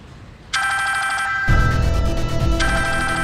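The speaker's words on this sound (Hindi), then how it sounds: "ये फोन किसका बज रहा है?" An electronic phone ringtone starts abruptly and plays continuously, a bright repeating melodic tone with a second layer of sound joining partway through.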